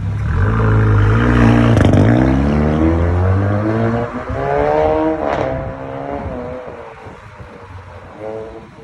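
An Audi A5 1.4 TFSI engine revs loudly through a remote-controlled valved exhaust, pitch rising and falling over several sustained pulls, close and continuous.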